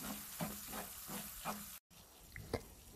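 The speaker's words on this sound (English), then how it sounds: "Gently stir mixture and fry it for a minute." Egg mixture with turmeric and pepper frying gently in a pan, a faint soft sizzle under intermittent stirring scrapes, close by but quiet, with a brief dropout partway through.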